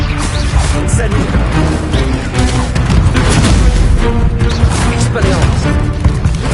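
An Incendio fire spell is cast in Hogwarts Legacy, a loud, dense burst of crashing, roaring magical impact that fills the whole stretch amid ongoing combat clamor.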